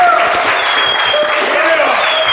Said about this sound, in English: I want everybody to start clapping right now